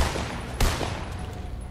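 Distant gunfire in Fortnite, a short sharp crack standing out over a low, steady background with faint rattling shots around it.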